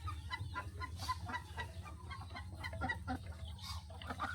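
Chickens clucking on a small backyard duck and chicken farm as the birds are let out, a faint busy chatter of many overlapping clucks and short calls.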